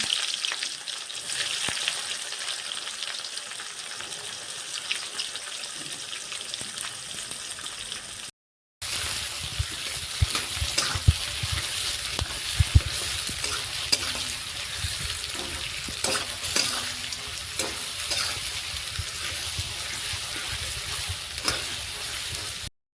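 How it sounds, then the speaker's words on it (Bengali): Steady, crackling sizzle of chopped onions frying in a pan for chicken kosha, with occasional stirring scrapes and a brief gap partway through. "এরপর কেটে রাখা পেঁয়াজ দিয়ে ভালোভাবে ভেজে নেব"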